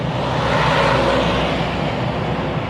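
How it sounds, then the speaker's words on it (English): A heavy vehicle rumbles past nearby, swelling loudly then slowly fading, with broad road noise and no speech. "here comes the truck. You won't be able to hear me."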